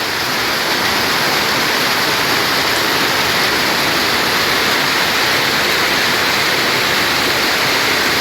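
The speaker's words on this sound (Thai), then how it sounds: "น้ำไหลตีบเลยบ้าน" Floodwater rushing past a house during a heavy storm, mixed with pouring rain: a dense, unbroken loud roar that stays constant from start to finish.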